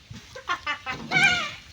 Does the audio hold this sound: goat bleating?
yes